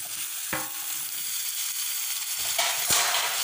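Tomatoes sizzle as they are sautéed in a pan for a ground-masala mutton curry, a steady hiss of frying with a couple of sharp spoon knocks against the pan.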